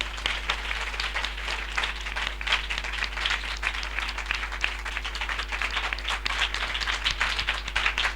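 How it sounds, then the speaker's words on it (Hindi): A church congregation at a spiritual revival gathering breaks into loud, sustained applause, with dense clapping over a constant low hum throughout. "हम जोरदार तालियों से उनका स्वागत करें।"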